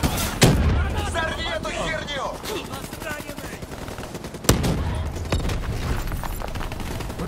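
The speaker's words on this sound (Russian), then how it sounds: "Подтверждаю взрыв." Heavy gunfire and explosive booms from a Call of Duty: Black Ops III campaign battle, loud and continuous, with a sharp blast standing out midway and combat chatter underneath.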